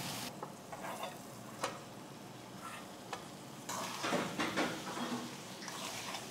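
Spices with turmeric frying in oil during home cooking of potatoes, a quiet steady sizzle with occasional stirring clicks and scrapes, growing busier near the end.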